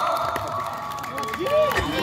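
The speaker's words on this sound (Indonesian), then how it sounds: "Beri tepuk tangan yang meriah untuk Singoparo." Crowd cheering and clapping at a school camp arts performance, a steady wash of shouts and applause with excited young voices rising briefly near the end.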